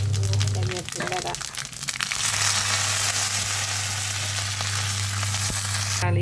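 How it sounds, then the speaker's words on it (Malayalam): Mustard seeds and curry leaves hit hot oil with onions already browning, giving a sudden, loud crackling sizzle that settles into a steady frying hiss beneath a low hum, with a voice talking early on. "ജസ്റ്റ് കടുകും കരിവേപ്പിലയും ഇട്ട് കൊടുക്കുന്നുണ്ട്"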